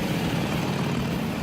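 A new Harley-Davidson Roadster motorcycle engine idling nearby, a low, throbbing rumble held steady for a brief moment.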